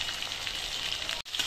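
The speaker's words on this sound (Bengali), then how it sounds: "কালো জিরে ফোড়ন দিয়ে কচু আলু ভাজা হচ্ছে" Taro and potato fry in oil with a nigella seed tempering, a brief close, even hiss of sizzling with a split-second dropout near the end.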